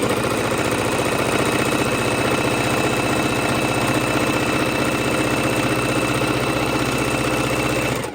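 A sewing machine stitches fabric and batting for a soup bowl cozy: a loud, close, steady rapid rattling drone that runs without pause for about eight seconds, then stops abruptly, with no talking.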